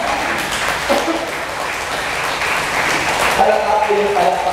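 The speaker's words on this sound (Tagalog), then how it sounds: "Palakpak po yung palakpak mo." Church congregation clapping during a sermon, a broad spread of applause beneath voices, with a voice speaking over it toward the end.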